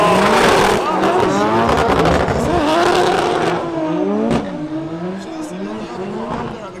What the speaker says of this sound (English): The car's stalling out on him as Lee Yearwood uses that Morgan 30's power to get out of danger